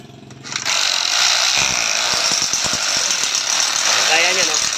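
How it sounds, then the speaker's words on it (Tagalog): A hammer drill chatters loudly and steadily as it bores into a hollow concrete block during window grill installation, a close, harsh pounding that runs almost the whole time after a short quieter start, with a voice breaking in near the end. "yung barena pala na gamitin nyo dyan, yung may hammer para"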